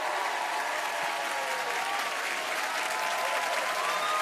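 An audience bursts into sustained, even applause for a singer, a thick wash of clapping with faint crowd noise behind it.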